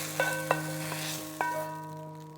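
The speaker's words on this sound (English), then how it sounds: "then give them a toss and let them sear again" Eggplant pieces sear in a hot sauté pan with a steady close sizzle, broken by a few sharp clatters as they are tossed and stirred.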